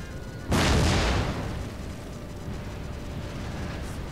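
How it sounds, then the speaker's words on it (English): A single deep artillery boom from Napoleon Total War bursts in loudly, then rolls off into a long fading rumble with distant battlefield ambience behind it. "my artillery have firing on my own men"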